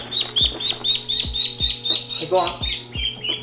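A flock of backyard chickens, about seventeen birds, keep up quick, repeated high chirps and peeps in a steady rhythm close by, while someone speaks briefly over them.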